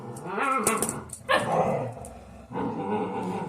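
Young puppies bark and growl in quick, overlapping bursts, fairly close, with yips mixed into a busy, continuous stretch of noise.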